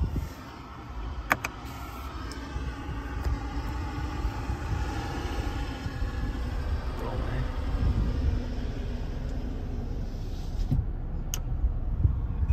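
A 2005 Toyota 4Runner on a test drive gives a low, steady engine rumble and road noise that builds gradually, with a few faint clicks and a voice talking over it.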